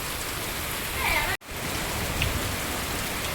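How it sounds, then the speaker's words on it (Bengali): Heavy rain pours down in a dense, steady hiss, broken by one brief drop to silence partway through. "কত জোরে বৃষ্টি হচ্ছে"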